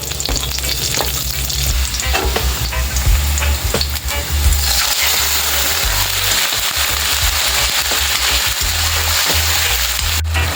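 Onions added to browned garlic sautéing in a pan for chicken liver adobo, a loud, close, continuous sizzle and crackle with stirring scrapes, no voices.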